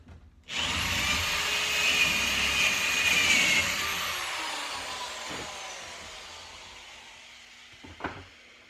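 A power saw whines up sharply and runs steadily for a few seconds while cutting a hole in a Fox Body race car panel for a Zeus fastener, then winds down slowly, followed by a couple of light clunks.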